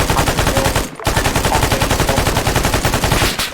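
Machine-gun fire rattles in the Arma 3 video game during a town battle. Loud, rapid automatic bursts run almost continuously, with one brief pause near the start.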